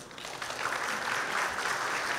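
An audience claps warmly for a museum director taking the stage at a tourism association annual meeting, a dense, steady round of applause that swells slightly and holds.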